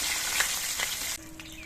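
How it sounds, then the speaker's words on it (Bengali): Pieces of silver carp fry in hot oil with a steady, close sizzling hiss that runs unbroken and alone, easing slightly in loudness toward the end. "বাকি মাছগুলো ভেজে নিচ্ছে"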